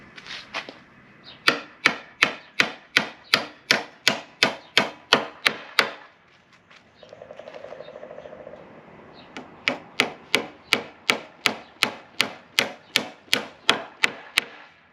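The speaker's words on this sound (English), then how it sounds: "I'm getting the ladder put together now, and yes, I'm just using nails." Nails are hammered into a wooden escape ladder with 16-inch treads. A quick, even run of about a dozen sharp hammer blows is followed by a short pause with a soft rasp, then another steady burst of strikes, close by and without talk.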